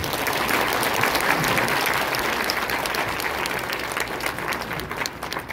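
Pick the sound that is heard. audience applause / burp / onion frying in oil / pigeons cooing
audience applause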